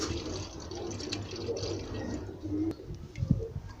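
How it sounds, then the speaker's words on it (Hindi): Milk poured through a kitchen strainer for a sweet milk dish, a continuous close liquid trickle and splash that swells and gurgles toward the end, with no talking. "इसको छन्नी से छान लेना है ताकि इसमें कोई कचरा वचरा हो वो निकल जाए।"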